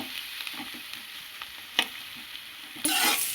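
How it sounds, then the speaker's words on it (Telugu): Mushrooms frying gently in a pan for a mushroom curry, a soft low sizzle with occasional slow stirring taps, ending in a sudden louder hiss of fresh sizzling. "ఇలా నెమ్మదిగా కలుపుకుంటూ జాగ్రత్తగా కలుపుకుంటూ ఉండాలండి"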